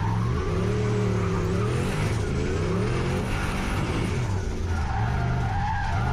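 A turbocharged 1UZ V8 Lexus LS400 drifts on Extreme tyres at a track drift day, its loud, continuous engine roar shifting pitch under a steady wash of skidding tyre noise.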